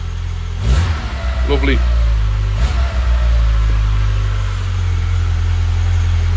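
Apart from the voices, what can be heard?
Citroen ZX engine revving with a small throttle blip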